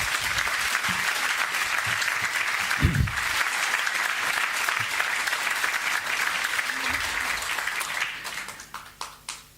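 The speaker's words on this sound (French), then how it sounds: "Je vous remercie de les applaudir" Conference audience at the Journées NF in Paris applauds warmly, a dense, even roar of many hands that holds steady before tapering off near the end; a faint voice is briefly audible underneath.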